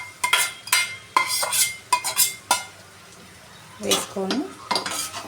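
Chicken and fried egg are stirred into chicken fried rice in a pan, with a spatula scraping and clinking against the metal over a soft sizzle. The strokes come in quick bursts, close up, with a short pause in the middle.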